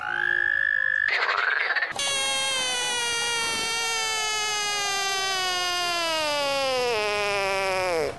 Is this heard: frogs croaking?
yes